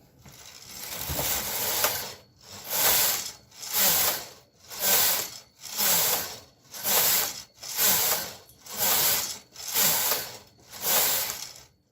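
A home knitting machine works through ten rows of plain knitting, its carriage rasping and clacking across the needle bed in nine steady, evenly spaced passes, each swelling and fading, with the table rattling underneath.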